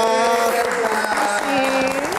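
Brief applause from a live talk-show audience welcoming a young singer, a short burst of clapping beneath a voice talking prominently over it.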